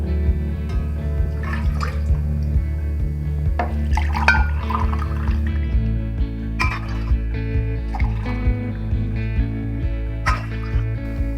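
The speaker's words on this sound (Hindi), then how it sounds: "अब इसके अंदर हम 3 गिलास पानी को ऐड करेंगे।" Three glasses of water pour steadily into a metal pan for several seconds, with gurgling and a few light clinks of glass against the rim.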